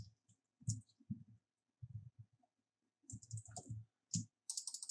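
Typing on a computer keyboard while entering data commands, close soft thumping keystrokes in uneven bursts separated by short pauses.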